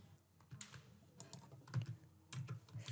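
Keystrokes on a computer keyboard tap in quick irregular bursts, close and fairly quiet, with no voices over them.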